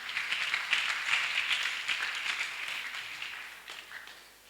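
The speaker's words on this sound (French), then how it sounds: "On acclame, on acclame." A Sunday school congregation applauds in a steady, moderately distant wash of clapping that gradually fades toward the end.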